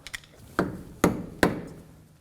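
A hammer strikes an axle nut three times to lock it to the front CV axle of a 2016-2020 Kia Sorento 2.4L, sharp metallic hits spaced about half a second apart after two lighter taps.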